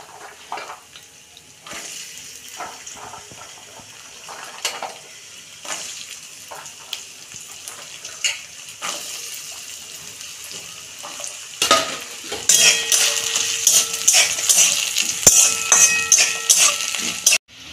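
Washed potatoes fry in oil in a karahi, a steady hiss with stirring scrapes that builds into a louder, denser sizzle with crackling toward the end, close by with no voices.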